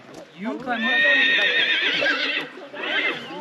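A horse at Buck Rock Fire Lookout in Sequoia National Forest whinnies loudly and nearby, a long wavering call with a shorter second whinny after it, while people talk around it.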